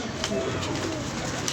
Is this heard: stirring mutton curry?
no